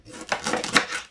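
A knife slices cabbage into thin strips on a board in a home kitchen, a brief run of close, crisp chopping strokes.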